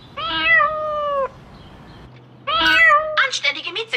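A cat meows twice, loud and close, with a long drawn-out call, a pause, then a second meow that breaks into shorter chirps.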